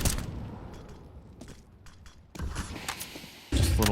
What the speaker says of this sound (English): That nade's gonna hurt.